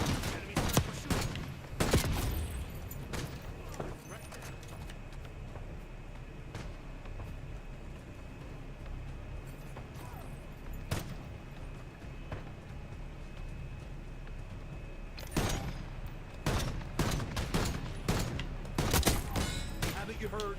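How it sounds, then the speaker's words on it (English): Enemy sniper rifle gunfire in a shooter video game, several sharp loud cracks spaced irregularly, with quieter game ambience and occasional voices in between. "enemy sniper shooting."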